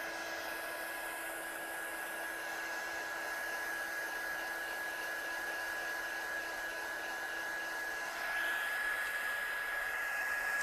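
A heat tool blows steadily while drying stamped ink on card, a loud continuous close whooshing roar that holds unbroken throughout, swelling slightly near the end.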